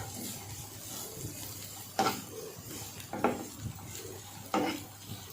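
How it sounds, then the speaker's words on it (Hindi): Vegetables frying in a pan, with a soft steady sizzle and three distinct stirring scrapes of a spoon against the pan, close and moderately quiet with no talking. "दस मिनट तक हम इन सब्जियों को फ्राई करेंगे।"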